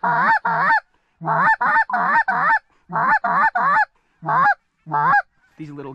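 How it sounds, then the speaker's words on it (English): A flock of geese honks at close range on a river, loud repeated bursts of calls in quick clusters separated by short pauses, with no talking. "There's so many geese out here."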